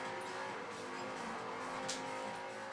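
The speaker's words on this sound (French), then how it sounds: "les bruits des moteurs sont tout à fait crédibles" Car engines in the racing video game Forza Motosport 4, heard from the in-car view on a circuit: a steady, fairly loud engine drone with a brief swell near the end and no talking.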